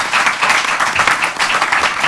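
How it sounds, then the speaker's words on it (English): A studio audience in Port Macquarie gives a round of applause: loud, continuous clapping from a room of people at close range, steady throughout with no speech over it. "Why don't we give them a great round of applause?"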